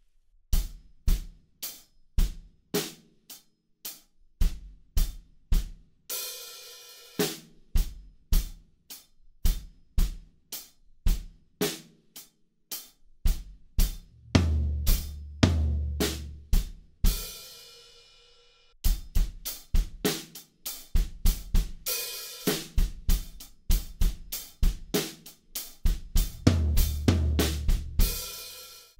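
Drum kit beat for a song, with punchy kick and snare hits driving a steady groove, occasional cymbal wash and dense fills, played alone and close.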